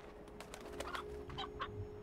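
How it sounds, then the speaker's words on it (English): A painted hen from the video game Slime Rancher gives several soft, quick clucks at a moderate distance over a steady low hum and faint ambient background. "Painted hen"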